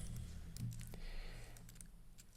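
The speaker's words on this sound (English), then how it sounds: "So I'm going to click here." A single soft computer mouse click sits among quiet keyboard-like taps in a hushed room, faint and close, with no talking.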